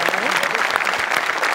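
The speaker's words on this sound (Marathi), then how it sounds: "यासाठी जोरदार टाळ्या झाल्या पाहिजे." A studio audience at a Marathi comedy show bursts into sustained, dense applause, loud and even throughout, with a voice speaking faintly underneath.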